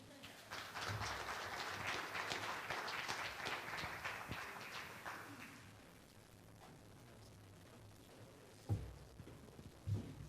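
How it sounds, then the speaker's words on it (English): Applause from the audience of an economic outlook panel, honoring the moderator. Clapping is moderate for about five seconds, then dies away into quiet room noise with a few bumps. "Let's everyone give Tina another round of applause for wonderful moderation."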